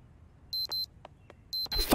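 Electronic alarm in Project Zomboid sounding in short high beeps, two bursts then another pair, with a few faint clicks between and a louder noisy thud at the end.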